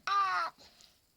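A single harsh, raspy gull call, short and fairly close, with a faint trailing noise after it.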